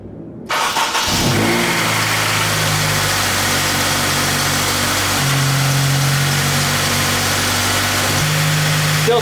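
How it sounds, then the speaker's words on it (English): A 2002 Honda Civic Si fitted with a new aftermarket air intake cranks and starts abruptly, then settles into a loud, steady idle close by, with slight shifts in engine pitch as it runs. "I'm going to start the car and see if it runs with this intake on it."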